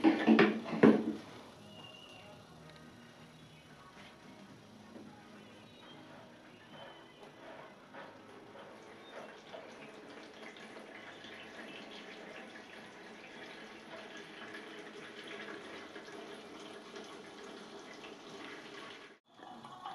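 Coolant drains from the base valve of a Case 430 radiator through a PEX pipe into a jug, giving a steady, quiet trickle of running liquid after a brief louder knock at the start.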